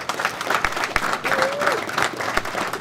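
Applause from the audience at a pre-event MMA press conference, steady clapping from a crowd with a voice briefly heard over it.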